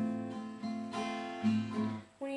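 Guitar picks out a chord shape from a song, several ringing notes sounded one after another with short gaps, played softly and alone.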